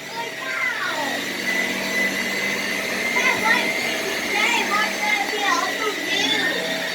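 A Shark upright vacuum cleaner running on carpet, a steady loud motor drone with a high whine and shifting tones, while children's voices and chatter carry on in the background.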